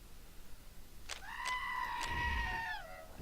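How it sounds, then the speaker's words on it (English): A goat in the video game Wasteland 2 gives one long, wavering bleat of almost two seconds, preceded by a few short bursts, heard fairly close against a quiet background. "Wish that goat would stop screaming."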